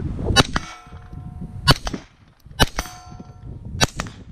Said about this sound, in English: SR15 CQB Mach 2. Little running and gunning this morning.